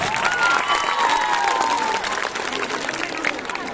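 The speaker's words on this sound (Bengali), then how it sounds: "সবাই আরেকবার জোরে একটা হাততালি" Sustained applause from teachers and students at a girls' high school cultural program, steady and dense throughout with some cheering mixed in.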